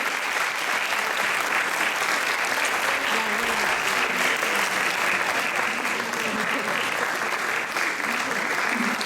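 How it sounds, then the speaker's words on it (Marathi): Loud, sustained applause fills a hall at a music competition prize distribution, a dense, even wash of many hands clapping for about nine seconds without a break. "जोरदार टाळ्या झाल्या पाहिजेत"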